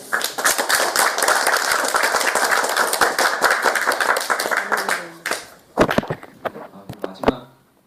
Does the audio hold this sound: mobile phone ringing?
no